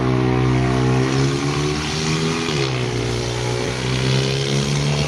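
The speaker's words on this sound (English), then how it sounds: "Damn, them cars loud." Loud cars with aftermarket exhaust rev and roar past on a street nearby, a continuous heavy engine drone that dips and climbs in pitch as they accelerate, with no talking over it.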